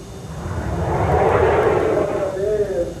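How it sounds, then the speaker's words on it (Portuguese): Brazilian Air Force F-5 fighter jet roaring steadily and loud, its engine noise swelling toward the middle while someone talks over it. "Este aqui é um caça F-5 da Força Aérea Brasileira."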